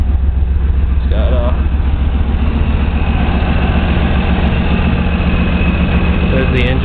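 A Nissan Hardbody truck engine idles with a steady low rumble throughout at close range, with a person speaking over it.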